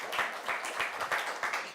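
Brief, fairly faint burst of audience applause for a high school poetry winner at the New York Browning Society's 2018 awards, a steady patter of many hands.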